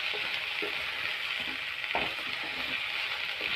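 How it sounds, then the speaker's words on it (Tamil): Ivy gourd frying in a pan with turmeric, chili powder and salt, a steady close sizzle with a few soft stirring scrapes and clicks of the spoon, no talking. "இப்போ இதோட நல்லா பரட்டி விட்டுட்டு அப்படியே ஸ்லோலியே வச்சு வதங்கட்டும்"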